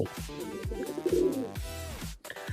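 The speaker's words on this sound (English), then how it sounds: "there's the owl" An owl calls with a series of soft, low hooting coos, repeated several times in a rhythmic sequence, fairly close and clear with no talking over it.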